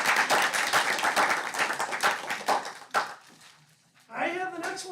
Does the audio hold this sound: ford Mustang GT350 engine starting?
no